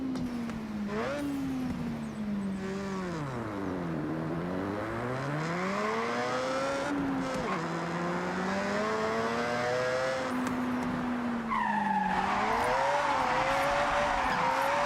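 A Mazda RX-7 drifting in Forza Horizon 6, its engine climbing and dropping through repeated revs and gear changes, with tire squeal building late, loud and continuous without speech.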